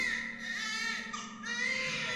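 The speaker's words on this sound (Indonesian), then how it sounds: "suara isak tangis bayi lebih dahulu memecahkan telingaku" A baby's sobbing cry used as a sound effect in a horror story narration, a close, continuous wailing with rising and falling pitch.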